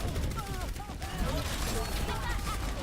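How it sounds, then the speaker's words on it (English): Overwatch rocket barrage going off in-game, a rapid volley of loud overlapping blasts and booms in a dense burst, mixed with a voice talking over the gunfire. "Rocket barrage incoming!"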